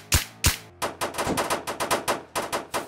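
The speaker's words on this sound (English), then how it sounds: "Why am I hearing gunshots already?" Gunfire in a Roblox hood-style shooter game: two loud separate shots, then a rapid irregular burst of close, sharp automatic shots.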